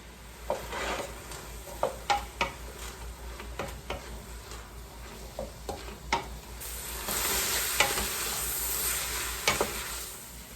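Soyrizo sizzling in a pan for plant-based chili, with a steady frying hiss and intermittent scraping stirs of a utensil against the pan bottom, the sizzle growing louder toward the end.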